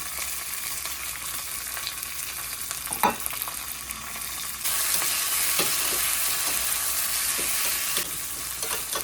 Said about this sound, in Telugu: కొంచెం ఆయిల్లో వేగేంతగా కొంచెం పెట్టుకోండి